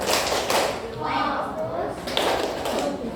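A primary school class chanting together while clapping in rhythm, a loud burst of group voices and claps up close, with a short lull in the middle before the chant returns.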